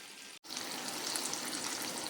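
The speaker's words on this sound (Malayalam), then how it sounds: "ഞാനിതെല്ലാം വറുത്ത് കോരിയെടുക്കാം കേട്ടോ." Small bony chicken pieces deep-fry in oil as plain dog food without spice or salt, producing a continuous, even, close hiss that begins after a brief silent gap.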